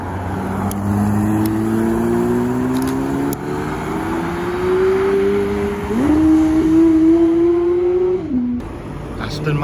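A red Porsche 992 GT3 arrives at a car meet, its engine note climbing steadily through the gears and rising loud and near before easing off, with people talking over it.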